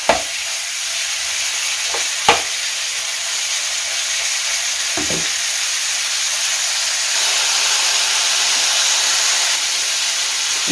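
Meat simmering with bay leaf in a pot, giving a steady soft hiss and sizzle throughout, broken by a few sharp clicks and clanks of utensils against the pot.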